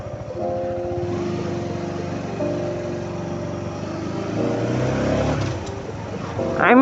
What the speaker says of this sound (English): This is a spectacular bike from Honda.